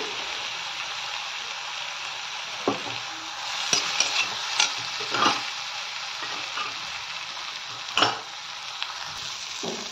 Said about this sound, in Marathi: हे जे आपण याच्यामध्ये टाकलंय सगळं चटणी वगैरे, अद्रक, लसूण, मिरची सगळे मस्त फ्राय झालंय